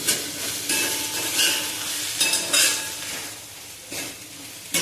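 Onion, tomato, chili, garlic and coriander fry in oil with a bright, steady sizzle, broken by a few louder bursts as a utensil stirs and scrapes the pan.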